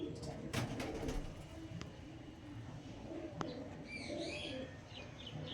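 Old-line, long-established pigeons coo softly from a loft, giving a faint, low murmur under quiet background noise. A few brighter chirps rise near the end, and a faint voice may be present.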